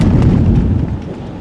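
A 1995 Chevrolet Monte Carlo LS thumps over a railroad track, giving a loud, dense low rumble with several heavy jolts inside the cabin that ease off toward the end.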